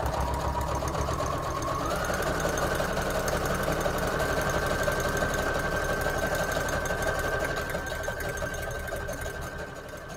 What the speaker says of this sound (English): I'm going to do one more just of these regular zigzag stitches.